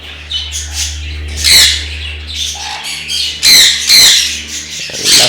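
Sun conure chicks squawk at close range in loud, harsh bursts, clusters of shrill calls coming every second or so over a low steady hum.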